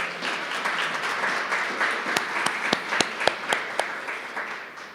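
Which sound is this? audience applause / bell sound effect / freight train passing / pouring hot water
audience applause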